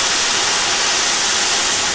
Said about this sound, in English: suddenly the safety valves lift, everybody's backing off with the sound of this steam roaring up into the blue sky